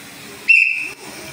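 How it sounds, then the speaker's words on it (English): One short, shrill referee whistle blast sounds in a volleyball class, loud and close, lasting about half a second over quiet room ambience. "Wait for my whistle."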